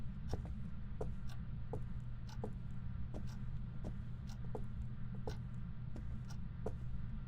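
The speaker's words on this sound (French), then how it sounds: "C'est le bruit d'un ventilateur qu'on entend." Ventilation fan in the Phasmophobia ghost-hunting game, a steady low electrical drone with faint, irregular ticking clicks scattered over it.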